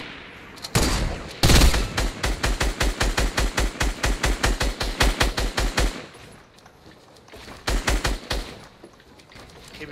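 Automatic gunfire in Fortnite Battle Royale: a long, steady burst of rapid, evenly spaced shots lasts several seconds, then stops and returns as a shorter burst near the end. The shots are loud and close, with almost no talking.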